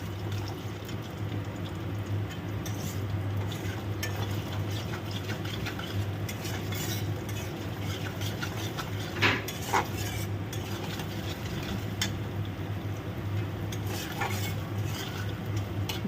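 Grated coconut stirred and lightly fried with whole cumin in a pan, a soft ongoing sizzle with occasional spoon scrapes against the metal and a low steady hum beneath.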